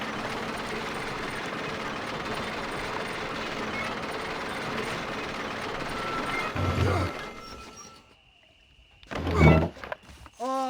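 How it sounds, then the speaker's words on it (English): In the Red Dead Redemption video game, the gears of a lift engage with a heavy mechanical clunk and grinding machinery that runs steadily, then a thunk, near silence, and another sharp mechanical impact. "Load up and I'll engage the gears."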